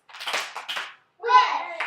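Children's voices and a few hand claps in a classroom setting, short bursts of noisy sound separated by a brief silence, with someone talking near the end.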